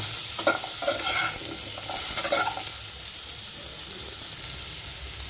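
Potato, carrot and papaya fry in a pan with a steady close sizzle, broken in the first half by a few scraping stirs before settling into even frying, with no voices.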